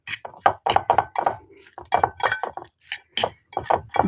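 Egg and milk being stirred in a bowl in a home kitchen, heard as a rapid run of light clinks and taps, close and fairly loud, with short pauses between bursts and no talk.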